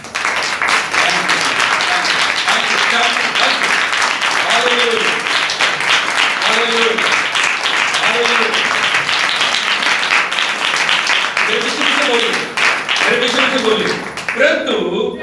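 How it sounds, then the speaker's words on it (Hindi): A church congregation claps together in praise, a loud, steady stream of hand claps filling the hall for about fifteen seconds, with voices calling out faintly beneath the applause. "ताली बजा के हम प्रभु की तारीफ करें।"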